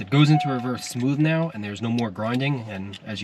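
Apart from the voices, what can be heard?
No distinct noise like a dog, phone or traffic.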